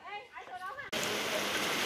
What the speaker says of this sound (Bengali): এই যে বৃষ্টি চলে আসছে